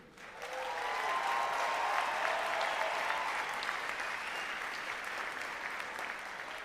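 Loud, sustained applause from a large crowd at a university autumn graduation ceremony for the class of 2022, swelling within the first second and holding steady as a dense wash of clapping.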